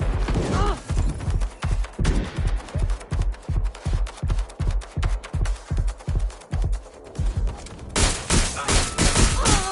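Rapid gunfire rattles in a steady rhythmic burst during a firefight in Watch Dogs: Legion on hard mode, loud and close, turning denser and harsher toward the end.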